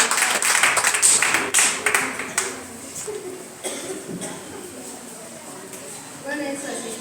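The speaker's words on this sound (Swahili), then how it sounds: "Pigia makofi mazuri." An audience at a church gathering breaks into loud applause that gradually thins into scattered claps, with voices mixed in throughout.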